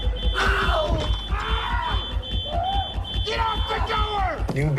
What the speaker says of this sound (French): Ils ont alors déclenché l'alarme incendie.